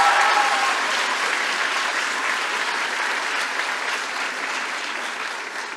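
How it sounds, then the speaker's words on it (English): A pageant audience applauds the Miss Hanover Area 2022 contestants, a broad, sustained crowd clapping that starts full and slowly thins out over several seconds. "How about another round of applause for these young ladies?"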